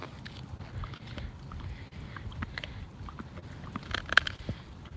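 A service dog crunches and chews on raw chicken, with irregular wet bites and cracks close to the microphone over a low background rumble.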